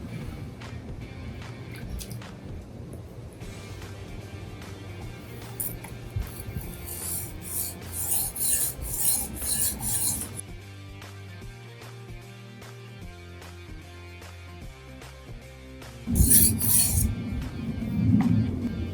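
A knife is worked on a sharpening stone in irregular bursts of scraping and rubbing strokes, fairly close and clear, with a few metallic clinks and quieter pauses between the passes.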